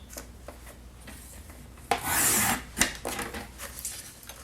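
Paper trimmer blade sliding through a sheet of cardstock, trimming a quarter inch from a 9.5 by 8.25 inch sheet; light rubbing scrapes build to one louder, sustained rasping cut lasting about half a second, then a sharp knock, close and with no talk.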